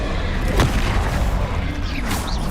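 In Hogwarts Legacy, a Confringo blasting spell sets off a loud booming explosion close up with a sharp burst early on, then rumbling debris and crackle over a heavy low background.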